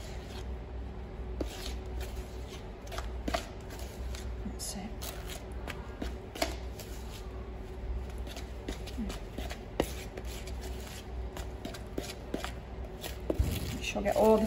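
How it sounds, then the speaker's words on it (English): Flour being folded into Victoria sponge cake mixture in a bowl, a soft scraping and shuffling of spoon through batter in quiet irregular strokes, close but faint, with a person talking over it. "You can see I'm just folding it"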